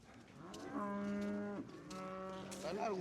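Cattle on a farm low out in two long, loud moos, each a drawn-out harmonic call lasting about a second, close by with no talk over them.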